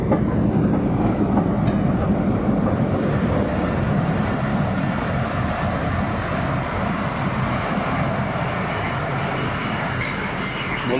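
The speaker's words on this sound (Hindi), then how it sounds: "तो दोस्तों यहाँ कोट अद्दू जंक्शन पे शटल ट्रेन आ रही है, जो shuttle DG Khan shuttle GMU 15 लगा हुआ है।" The DG Khan shuttle train, hauled by GMU 15 locomotive, rolls into Kot Addu junction with a heavy, continuous rumble of wheels on rails. Faint wheel squeal rises over the loud, close rolling.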